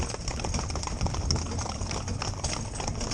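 Hooves of a mixed four-in-hand team of young, green ponies clop in a quick, irregular patter, fairly faint and continuous, with no voices.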